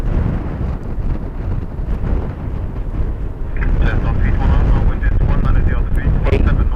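An ATR turboprop passes at Dublin Airport in wet, spraying conditions, its engine rumble building and a whining tone rising under wind buffeting the microphone. A voice talks over it.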